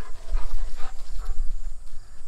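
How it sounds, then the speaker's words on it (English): Several dogs at a rural family home in Nova Scotia, with short bursts that may be barks or yelps over a steady low rumble of wind or engine noise outdoors. "These are my parents' dogs."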